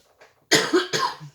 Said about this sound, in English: Wanted to clear my throat.